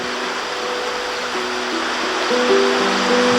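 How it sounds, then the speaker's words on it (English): Steady rushing water from a small creek flowing past a covered bridge in a tiny autumn pocket park off a quiet country road, a constant broadband wash that is close and fairly loud, with a faint tonal hum running underneath. "the only sound is the rush of water hurrying from one side to the other of this tiny watch pocket park"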